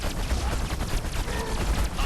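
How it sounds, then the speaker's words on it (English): Rapid gunfire from the video game Destroy All Humans! 2: Reprobed, a dense, loud volley of repeated shots with booming low thuds running steadily throughout. "I heard the gunshot right as he went down."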